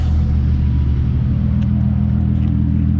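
A car engine runs at close range, producing a loud, even, low rumble that holds steady throughout with no revving or talk.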